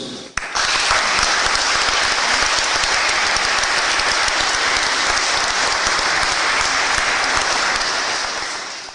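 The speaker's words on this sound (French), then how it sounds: "On peut les applaudir" A church congregation breaks into dense, sustained applause, loud and full from the first second and tapering slightly at the very end.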